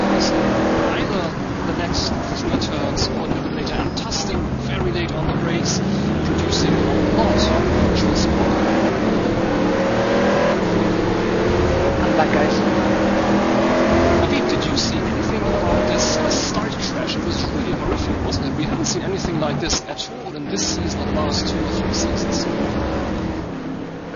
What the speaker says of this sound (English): I have a lot of engine noise.